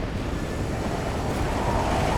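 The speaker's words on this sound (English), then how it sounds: "The wind is really blowing hard right there." Strong wind blowing hard by the Harrison River Bridge in British Columbia during a windstorm, a loud, steady broadband roar buffeting the microphone with no breaks.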